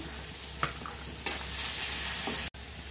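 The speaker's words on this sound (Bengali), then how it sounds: "আলু ভাজছি একটু লবণ দিয়ে দিচ্ছি" Potatoes frying in hot oil in a pan, a loud continuous sizzle close up with scraping stirs, briefly cut off near the end before the sizzling resumes.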